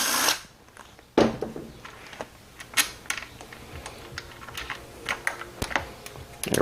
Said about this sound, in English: Okay, so now we remove our two 12mm bolts here.